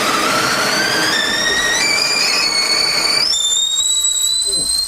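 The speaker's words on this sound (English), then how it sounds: "That is incorrect. That's a kettle." An old-school stovetop kettle whistles loudly and shrilly, its piercing tone climbing in pitch in a few sudden steps before holding high and steady.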